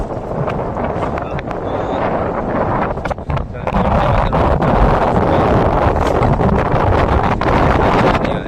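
Strong wind buffets a small fishing boat out at sea in rainy weather, a steady loud rush and rumble with gusts, and a voice talking intermittently over it.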